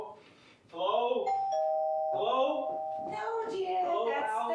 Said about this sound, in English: the doorbell, not the telephone